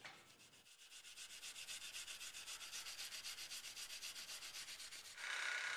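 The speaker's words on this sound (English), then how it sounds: "I'll go over the frets first with some medium and then some extra fine steel wool to get it really nice and smooth" Medium and extra fine steel wool rubs over guitar frets during fret leveling, producing a quiet, even back-and-forth scrubbing with a regular stroke rhythm, alone and close.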